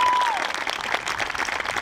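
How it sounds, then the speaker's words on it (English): Audience applause fills a commencement ceremony hall, steady dense clapping for just under two seconds while a voice sounds briefly over it. "Round of applause as well."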